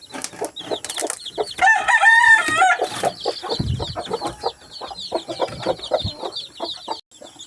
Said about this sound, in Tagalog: napakain na po natin yung alaga natin mga manok.